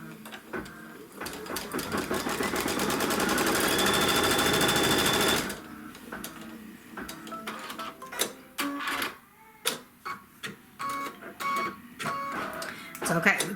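A Kimberbell embroidery machine stitches a trim line on a quilt block, a steady fast buzzing run of a few seconds, followed by scattered clicks and taps as the stitching stops.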